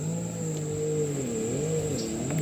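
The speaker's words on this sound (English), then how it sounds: "and the damn jet skis" Jet skis passing on the water, a moderately faint, rising and falling engine whine with gliding pitch changes over a steady high background hum, heard from a distance.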